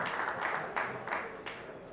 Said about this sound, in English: round of applause